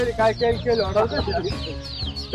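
Chickens, including desi, Sonali and tiger chicks, cluck and chirp at a poultry seller's stall in quick, close, overlapping bursts.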